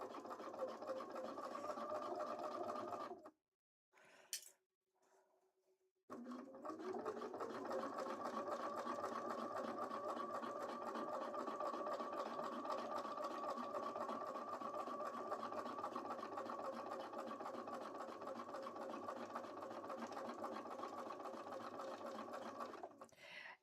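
A sewing machine stitches a cosplay costume piece, running in a long, steady, close whir of rapid needle strokes, with a short stop and a brief restart early on before it settles into an even drone.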